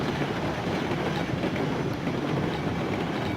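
A train in the Railroads Online game rumbles along steadily with a soft clickety-clack of wheels on track, a continuous close rolling noise without voices.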